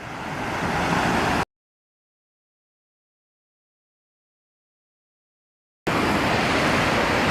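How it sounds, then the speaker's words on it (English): Fast-flowing water at a waterfall gives a loud, steady rushing roar, broken by a long stretch of complete silence in the middle before the rush resumes. "the water's going really fast right now."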